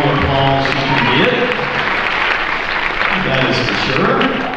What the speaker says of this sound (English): she deserves all the applause she can get.